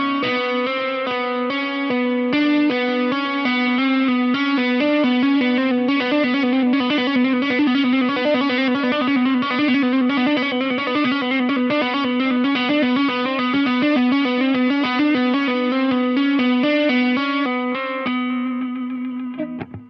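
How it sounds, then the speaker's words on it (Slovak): Distorted electric guitar plays a legato hammer-on and pull-off lick for a solo-technique lesson: a steady stream of fast, connected notes after a single picked attack, loud and continuous for about 18 seconds before ringing out, with no talking. "Čiže toto by bolo príklep a uvoľnenie."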